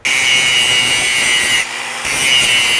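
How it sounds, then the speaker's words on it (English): An angle grinder cuts away welds on an exhaust pipe from a Honda Integra Type R, a loud, steady, high whine that dips briefly for a moment before resuming, close by. "To accomplish this, I'm gonna grind off all of these welds here."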